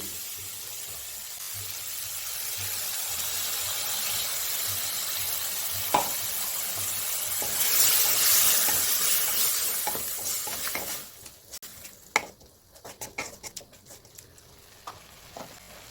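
Peanut and green chili paste goes into a pan of frying fenugreek sabji, with a continuous sizzle under scraping stirs that gives way to sparse clinks and taps of a spoon on the pan.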